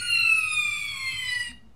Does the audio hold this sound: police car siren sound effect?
yes